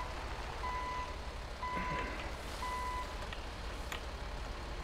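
A truck in GTA 5 backs up, giving three evenly spaced, clear reversing beeps over a steady, loud engine rumble.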